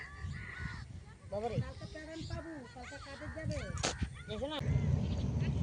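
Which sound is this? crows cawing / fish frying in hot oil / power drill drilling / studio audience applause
crows cawing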